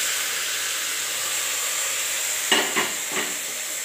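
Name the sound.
tomatoes added to frying masala and stirred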